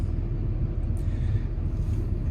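A big digger's diesel engine idles continuously, a steady low rumble heavy in the low end with a faint higher whine above it.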